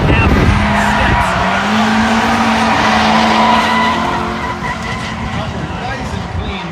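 A Mazda Miata drifts at an event with loud sustained tire squeal and engine roar, fading slightly toward the end, while a commentator talks over it.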